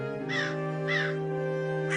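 A cartoon crow caws three times at a steady pace over a sustained tonal music background, with no talking.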